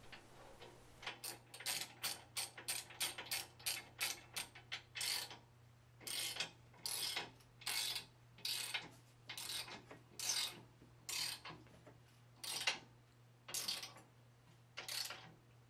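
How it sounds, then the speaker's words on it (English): Angle iron lock clamps on a roof bracket being tightened with a ratchet, giving repeated bursts of rapid ratcheting clicks in a steady rhythm of short strokes, close and moderately loud over a low steady hum. "you can now tighten the angle iron lock clamps."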